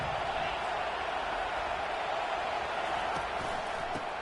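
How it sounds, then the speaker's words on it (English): A college football stadium crowd roars continuously in the early going of a game involving the Longhorns, a dense and steady wall of far-off cheering and noise. "Listen to the crowd energy here in the early going."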